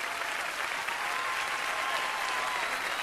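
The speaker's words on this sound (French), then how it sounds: "Et continuez à applaudir" An audience at a gala entertainment show with an acrobatic trio applauds, producing a dense, steady wash of clapping from many hands throughout, with faint talk mixed in.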